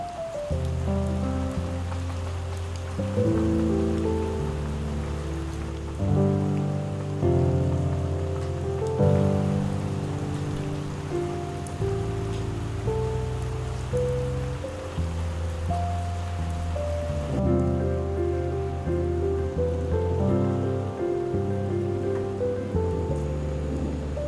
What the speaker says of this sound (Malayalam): മഴയത്ത് ഇങ്ങനെ നനയണ്ട, അകത്തേക്ക് കയറി ഇരുന്നോളൂ.